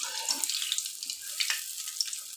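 Dahi vada batter deep-frying in hot oil, cooked in batches: a steady, close crackling sizzle with bright hissing and scattered pops, heard alone without talk.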